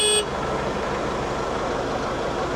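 A Solis 75 tractor horn gives one brief, loud honk at the start, followed by steady engine rumble from the idling tractor.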